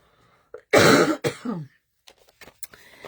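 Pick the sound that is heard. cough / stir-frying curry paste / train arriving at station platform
cough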